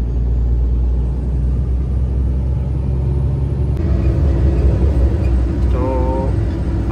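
A loaded goods truck rumbling as it drives off to be unloaded, a steady low engine drone with road noise throughout, close and continuous, with a brief higher whine near the end.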